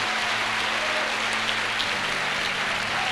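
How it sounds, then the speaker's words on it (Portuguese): Church congregation at a Sunday evening service applauding, a dense, steady wash of many hands clapping at close range, loud and continuous throughout, with no speech over it. "Dá uma salva de palmas ao Senhor aí."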